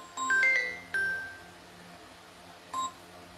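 Several short telephone keypad dialing tones, a few quick beeps in a cluster followed by a single later beep, placed while calling someone back, clear and close in a quiet room.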